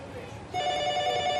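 A telephone starts ringing partway through with a steady electronic trill in an indoor room, fairly faint against low background noise.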